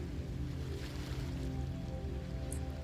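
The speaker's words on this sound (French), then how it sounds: "Le bruit des vagues continue." Soft, continuous wash of ocean waves on a beach, low and steady throughout with no voices.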